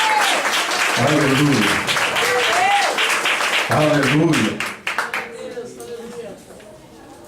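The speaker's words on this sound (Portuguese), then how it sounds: "Aplauda o Senhor, querido." A Baptist church congregation applauds with steady, dense clapping while voices loudly call out over it in repeated exclamations, the clapping thinning out toward the end.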